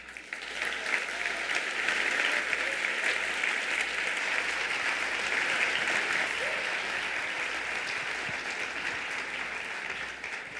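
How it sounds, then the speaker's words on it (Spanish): Steady, dense applause from an audience at a talk, a thick wash of many hands that holds loud and even for the full length with no voices over it. "Otro aplauso más para María Patricia"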